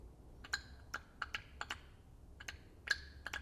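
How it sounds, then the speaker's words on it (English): Engine solenoids from a BMW E70 X5 V8, energised with 12 volts, give sharp intermittent clicks in small irregular clusters, close and clear against a quiet background. "See how they're clicking."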